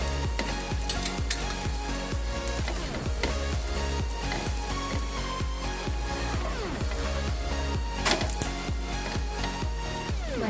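A spinach and gram flour chilla (pudla) sizzles in oil on a pan, with a steady close crackle and frequent light scraping and tapping of a utensil against the pan.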